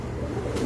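A single prized male pigeon on a rooftop loft gives a brief, low, soft coo close by, with no talk over it.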